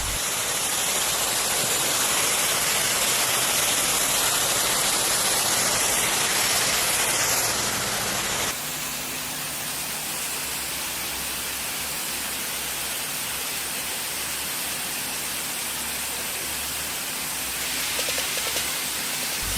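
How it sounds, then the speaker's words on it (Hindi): Water from a shower sprays onto cows at a dairy farm, a dense, steady hiss that drops to a slightly softer, lower-pitched spray partway through and carries on without pause or speech. "चलो अब शावर में थोड़ी मस्ती मारी जाए"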